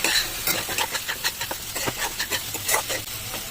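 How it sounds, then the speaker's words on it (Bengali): Young jackfruit curry with fried jackfruit pieces being stirred and mixed in a pan, giving a steady run of close scraping strokes over a soft sizzling hiss. "ভালো করে মিক্স করে নেব।"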